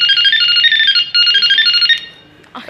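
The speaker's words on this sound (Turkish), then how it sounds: "arkadaşlar kornayı da gösterelim" An electronic bicycle horn plays a bright beeping melody loudly and up close for about two seconds with a brief break partway, then stops, followed by a short burst of other noise.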